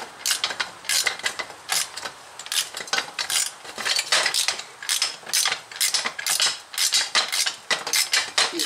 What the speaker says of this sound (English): Using this wrench, just getting these bolts out of here.